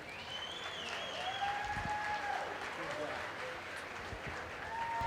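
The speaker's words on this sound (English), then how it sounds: "Give them both a nice round of applause." Audience applause fills a livestock arena after a class at a market steer show, a steady wash of clapping with faint whistle-like tones and voices mixed in.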